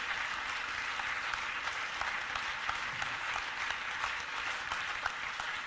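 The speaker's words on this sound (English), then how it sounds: "can we have another round of applause" Steady applause from a live storytelling-event audience in a hall, dense clapping sustained evenly throughout with no talking.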